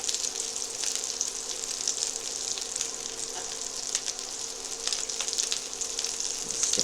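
Chicken meatballs fry in a pan with a steady, bright sizzle and occasional crackles and pops. Light stirring clicks come through close by, and no one speaks.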